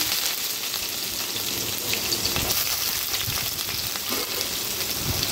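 Onion and curry leaves fry in oil with mustard seeds and cumin, a dense continuous sizzle with a rain-like patter and occasional stirring, heard close with no talk.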